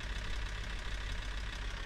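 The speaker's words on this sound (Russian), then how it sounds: "Так, включаем двигатель." In Car For Sale Simulator 2023, a car engine turns over and settles into a steady low idling rumble with faint rhythmic knocking pulses, loud and close with no talk.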